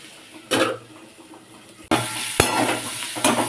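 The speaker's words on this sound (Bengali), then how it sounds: "ভালো করে নাড়াচাড়া করতে থাকবো" Vegetables being stirred in a pan on the stove: quiet cooking hiss broken by spatula scrapes, then a louder, steady sizzle with a sharp clank of utensil against pan, close by.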